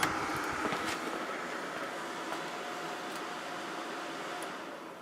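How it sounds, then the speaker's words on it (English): A Whirlpool 40-pint dehumidifier runs with a steady, even compressor hum and fan whoosh, constant and moderately loud throughout with no talking. "This one has a real nice sounding compressor in it."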